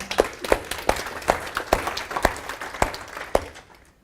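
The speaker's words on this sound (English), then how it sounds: "Give her a clap, by the way." Sparse, uneven clapping from a handful of people, around eight distinct claps that fade out toward the end.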